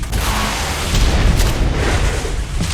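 Turrets blow up together in a video game, giving a loud, sustained, rumbling burst of explosion noise that rolls on for the whole moment.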